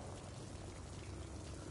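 Steady rain in the video game Little Nightmares, a dense, even wash of falling drops that holds close and loud for the whole short stretch.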